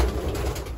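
Racing pigeons coo in a loft, a brief low murmur heard amid steady background noise with no talk.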